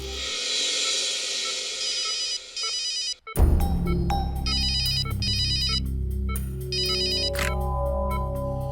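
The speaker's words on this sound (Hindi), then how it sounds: "डॉक्टर तारिका को फोन कर देता हूं।" A telephone rings in repeated electronic bursts, loud and alone, with a brief break near the middle before the ringing resumes over a low steady hum.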